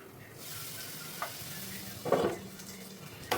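Bitter gourd curry with jaggery, sesame and roasted peanut powder being stirred in a pot, a soft steady sizzle with a few scraping clinks of the spoon against the metal, close by and with no talk.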